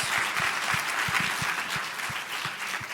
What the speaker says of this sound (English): Give Norman Robinson and our panelists a big round of applause